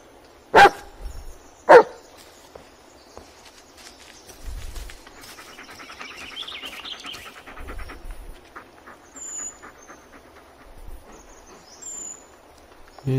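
A dog in the video game Blair Witch barks twice sharply near the start, followed by quieter rustling, footsteps and a few soft low thumps in a dark, quiet setting.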